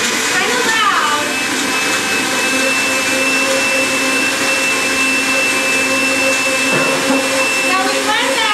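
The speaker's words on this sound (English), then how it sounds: "You probably can't hear me over the blender" A loud blender motor whirs steadily with a high-pitched whine throughout while blending ingredients for Mexican rice, while a voice speaks faintly underneath.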